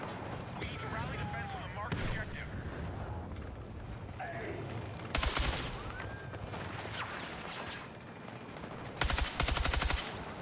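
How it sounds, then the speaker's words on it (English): Rapid automatic gunfire in the Battlefield 6 video game, heard in dense bursts with sharp loud volleys near the middle and end, set against ongoing game noise and a talking player. "I'm literally just firing."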